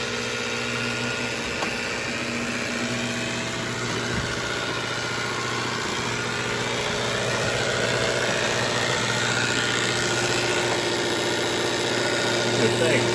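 A robot vacuum, either a Roomba S9 or a Roborock S5, drones loudly and steadily nearby, a continuous motor hum with a faint tonal whine running under intermittent voices.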